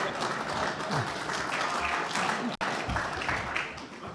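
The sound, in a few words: audience applause at the National Press Club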